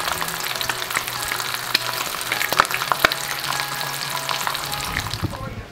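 Thick cut bacon fries in a pan with a loud, continuous sizzle and scattered sharp spits and pops, near and alone, fading briefly at the very end.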